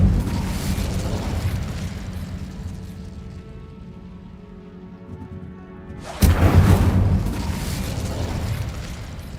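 Incendio fire spell cast in Hogwarts Legacy, a sudden loud whooshing burst of flame after a fading rumble, roaring close and then trailing off.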